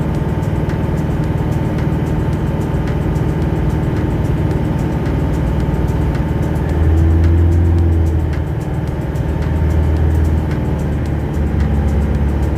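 Isuzu Sportivo diesel engine with throttle delay, vibration and low power running steadily at idle, then rising into a louder, heavier rev around the middle and again near the end, close and continuous with no talk.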